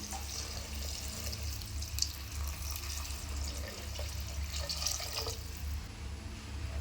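Two tumblers of water are poured into a pot of vegetables for vegetable biryani, a close, steady splashing and trickling stream of liquid that runs continuously without speech.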